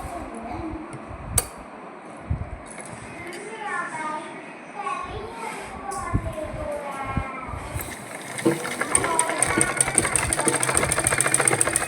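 A sewing machine stitches a kurta button placket, its rapid, steady whirring growing stronger toward the end, under children's voices and nearby talk.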